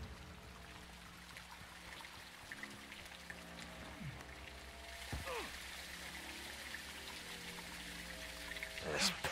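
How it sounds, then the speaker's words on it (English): Heavy rain in Call of Duty: Modern Warfare II, a steady hiss of downpour with scattered drops and game effects, growing denser and louder toward the end. "It's raining fucking hard."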